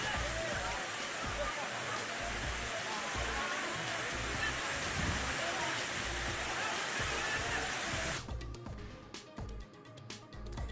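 Rushing rainwater flooding and washing away farm produce in Washim, a loud steady torrent of water that cuts off abruptly into quieter, choppier sound near the end.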